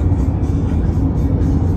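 A huge vehicle rolls past on a US road, producing a loud, steady low rumble that stays close and even throughout.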